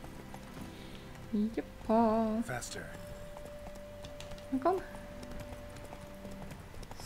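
Hooves of the horse Roach clip-clop steadily at a trot along a road in The Witcher 3, under a voice and short game dialogue, with a brief horse whinny-like call.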